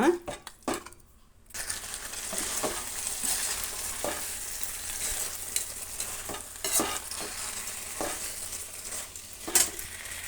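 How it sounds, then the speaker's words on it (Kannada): A spoon stirs tamarind and jaggery into a bitter gourd gravy masala, giving repeated scraping and clinking against the pan over a steady sizzling simmer, with brief quiet gaps and a little talk. "ಇಷ್ಟು ಬೆಲ್ಲ ಹಾಕ್ತಾಯಿದ್ದೀನಿ ಎಲ್ಲ ನೀಟಾಗಿ ಕಲಸೋಣ"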